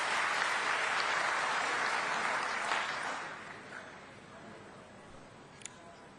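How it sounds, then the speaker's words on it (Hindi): Audience applause at a PM Kisan Day event in Raipur, a dense broad wash of clapping from a large crowd that stays loud for a few seconds, then thins and fades into a low murmur. "जोरदार ताली बजाओ।"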